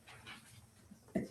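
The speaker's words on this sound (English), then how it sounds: "I'm sorry that my dog decided to learn how to bark literally tonight for the first time ever" A dog whimpers faintly with soft breathy panting, then lets out one short, louder whine near the end, all quiet and close indoors.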